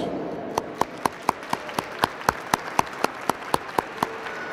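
An audience applauds teachers with evenly spaced, sharp claps in a slow, steady rhythm, distinct and moderately loud over a soft room background.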